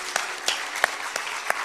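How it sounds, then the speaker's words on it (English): An audience at the India International Guitar Festival gives a brief round of applause, a soft, steady patter of clapping with a few sharper individual claps standing out. "applause for making this possible"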